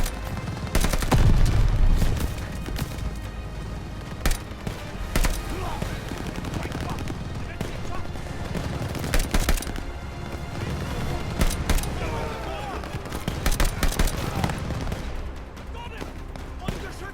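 Machine gun fire in Call of Duty: Vanguard, with dense bursts and booming shots over a continuous battle din, moderately loud, with shouted voices mixed in.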